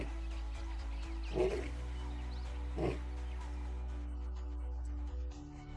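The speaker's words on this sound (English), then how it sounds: "He announces his presence with a deafening roar that can be heard up to 8 kilometers away." A male lion on the African savanna gives a series of deep roaring grunts, two prominent bursts at a distance over a low steady rumble, with no voices.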